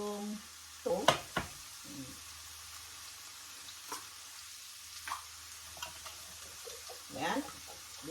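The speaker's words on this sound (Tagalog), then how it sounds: "I-warm up lang mo dito yung tomato base." Tomato base heating in oil in a pan, a faint low sizzle with scattered clinks and stirring scrapes, while a person talks at intervals.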